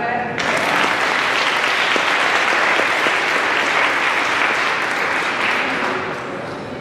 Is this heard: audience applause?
yes